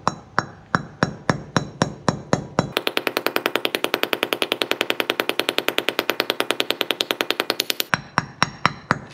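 A part is hammered into a wheel hub during a wheel bearing job: a few evenly spaced metallic taps, then a rapid burst of fast continuous blows for about five seconds, then slower single taps again, all close and clear.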